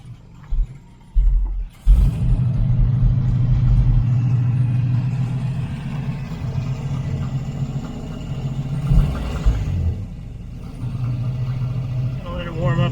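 Engine of a 1970 Chevrolet Camaro project car idling steadily after a cold start with no choke, a loud, low, continuous rumble with a brief rev near the start and someone speaking over it.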